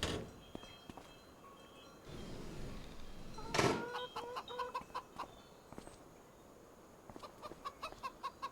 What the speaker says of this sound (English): you can hear that rooster.